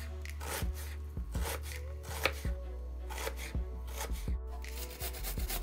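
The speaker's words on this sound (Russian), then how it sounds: "Режем лук не очень мелко" A knife chops through onion on a cutting board in a quick, steady rhythm of sharp taps, close and clear with no talking.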